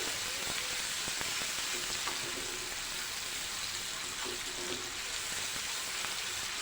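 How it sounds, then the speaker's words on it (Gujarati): Finely chopped onion sautéing over a high flame in a pan, with a steady, dense sizzle running unbroken throughout, close and moderately loud, with a few faint clinks of stirring. "હવે આપણે એક ઝીણી સમારેલી ડુંગળી લીધેલી છે તે લઈને બરાબર સાતોઈ લઈશું"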